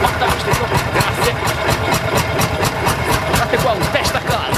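Vintage tractor engine running at a vintage tractor show in Salizzole, a loud, close, rhythmic thumping chug repeating steadily throughout, with a voice talking over it.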